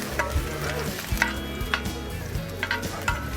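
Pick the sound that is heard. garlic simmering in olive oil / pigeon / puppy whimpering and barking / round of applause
garlic simmering in olive oil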